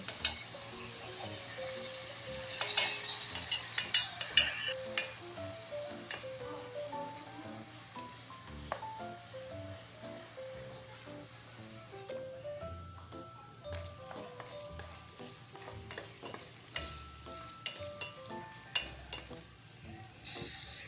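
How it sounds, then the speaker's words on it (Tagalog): Ground pork sautés in a pan for a Filipino ginisang patani, a steady close sizzle and frying hiss broken by scraping stirs and light clinks of the utensil against the pan. "Gisa-gisa lang muna natin siya hanggang maluto yung ating karne."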